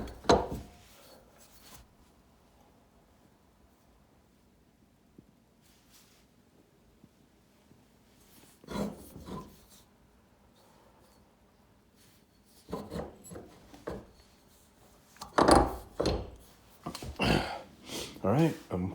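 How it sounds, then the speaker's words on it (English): Sandpaper rubs grind lines off a lawnmower blade in scattered rasping strokes, quiet at first and then louder, denser bursts toward the end, close to the microphone. "Now, I'm going to sand these grind lines off."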